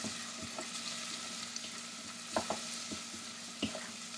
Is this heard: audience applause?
no